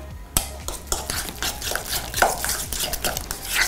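Plain yogurt being stirred into a legume purée, a spoon knocking and scraping rhythmically against a bowl in quick irregular strokes, close and moderately loud with no speech.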